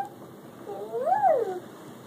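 A single drawn-out cat meow rising then falling in pitch, close by, over faint background hum.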